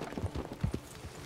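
Horse hooves clip-clopping while riding in Red Dead Redemption 2, a short run of soft, uneven thuds from a ridden horse, moderately quiet with no voices.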